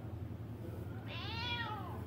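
A single clear cat meow rises and falls partway through, over a steady low rhythmic hum in the background.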